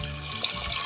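Water poured into a pot of moong and masoor dal with chopped tomato, a steady, close splashing pour lasting under a second, with no talking.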